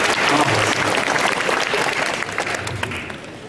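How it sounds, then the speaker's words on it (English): A convention audience at a 2014 Fan Expo Vancouver panel with Tom Felton claps steadily, dense and close throughout with no voices on top. "this deserves a round of applause"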